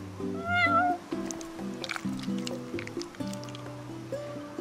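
A cat meows in the video game Final Fantasy XV, with a rising, wavering cry near the start and further meows over background music, while people talk between the calls.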